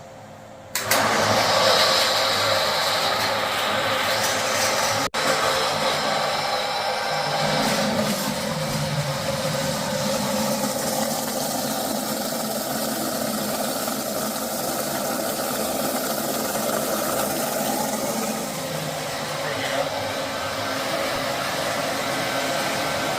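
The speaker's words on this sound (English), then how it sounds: "we will turn this blender on" A countertop blender switched on with a green button, whirring steadily and loudly at full power for the whole stretch after a short quiet start, a constant motor drone with no talking over it.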